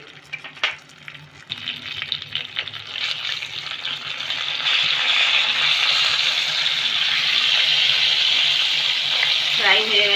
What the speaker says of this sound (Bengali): আবার আমি ওই সাইডে ওই একইভাবে ভেজে নেব